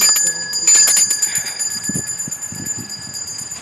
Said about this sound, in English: You can hear the dude ringing the bell.